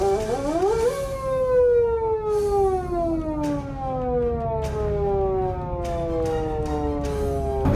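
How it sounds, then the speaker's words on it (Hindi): A private ambulance siren switches on and wails loudly nearby, its tone sweeping up sharply then gliding down in long falling cycles, with faint background clatter and no talk. "ये देखें जी, उन्होंने हूटर चलाया है"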